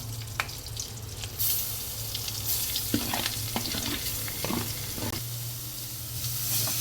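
Beetroot is stirred into a hot tempering of fried curry leaves in a pan, producing a crackling sizzle with intermittent spoon scrapes and a low hum underneath, nearby and without speech.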